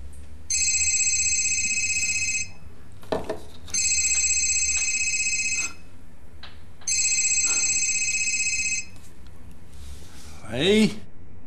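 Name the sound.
telephone ringing during an outgoing call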